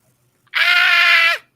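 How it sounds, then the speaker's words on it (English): A man lets out one loud, sustained scream of agony lasting under a second, alone against near silence. "He screams in agony."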